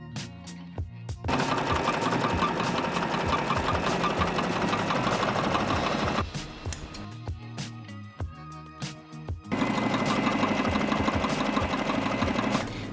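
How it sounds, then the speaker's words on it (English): A domestic sewing machine runs in long, loud bursts of rapid stitching, sewing along marked lines across the bottom corners of a shopping bag made from old fabric, pausing briefly between runs. "now we sew on the lines we just drew"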